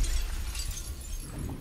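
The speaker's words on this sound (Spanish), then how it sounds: "para avanzar había que romper ese vidrio extrañamente ubicado" Underwater glass shatters in the video game Silt, a brief crunching break that fades into a low muffled rumble and settling debris.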